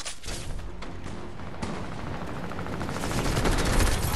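Rapid automatic gunfire rattles in a video game, a dense continuous stream of shots close and loud for several seconds, building slightly toward the end, with no talking.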